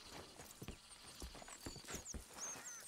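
Horse hooves clip-clopping in Red Dead Redemption 2, a steady walking rhythm of soft hoof beats under a busy game soundscape with faint birdsong and ambient noise.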